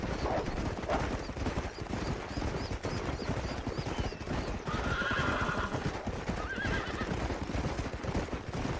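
In the video game Red Dead Redemption, horses whinny over a dense, continuous clatter of galloping hooves, loud and close, with a busy rumbling backdrop and no speech.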